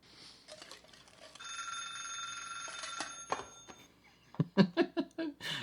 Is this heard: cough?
no